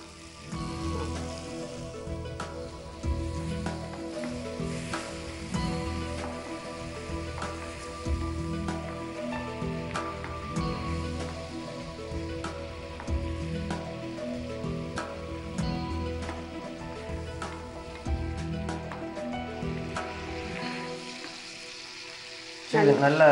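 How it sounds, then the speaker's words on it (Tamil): Cabbage kothu curry gravy simmering and sautéing in a pan with a little added water, giving a steady low sizzle and gentle bubbling with occasional stirring clinks that stop near the end. "நல்லா வதங்கிட்டு இருக்கு"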